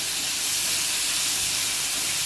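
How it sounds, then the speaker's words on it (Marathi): Onion and tomato sizzle in a hot pan while soybean bhurji is cooked, a loud, steady hiss of frying that fills the space and continues unbroken from start to finish. "कांदा परतून झालाय, त्यामध्ये टमॅटो पण परतून घेऊ"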